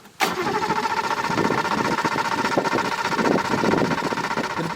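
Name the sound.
Suzuki LJ50 two-stroke engine starting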